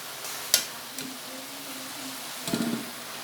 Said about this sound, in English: Stir fry. Stir up.